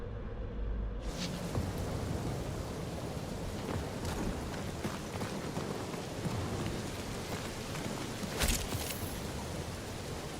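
Steady rain pours in Marvel's Guardians of the Galaxy, a dense continuous hiss with a few sharper rumbling bursts, heard alone without talk.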